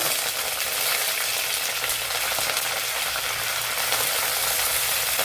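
Curry leaves and cut dried red chili sizzle in hot coconut oil for a squid curry, a steady, close, dense frying crackle that stays even throughout with no talk.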